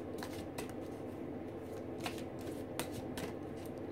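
Romance lover oracle cards being handled and shuffled, a steady soft papery rustle with occasional light flicks and taps, close and fairly quiet with no talk.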